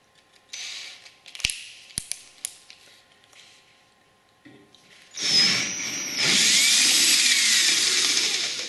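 A power drill bores a quarter-inch hole in an aircraft build part, starting after a few light clicks and taps and then whirring loudly and steadily up close for several seconds.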